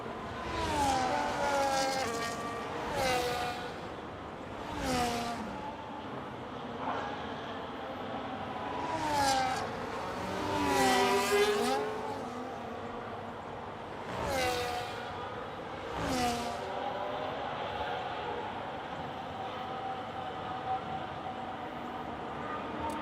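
Onboard engine note of a McLaren Formula 1 race car in a racing video game, a continuous high-revving whine that climbs through the gears and drops sharply on repeated upshifts and braking, loud and steady throughout.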